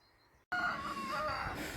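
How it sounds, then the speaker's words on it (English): After a brief quiet moment, chickens burst into loud clucking with a rooster crowing close by, continuous and busy. "The chickens are not happy."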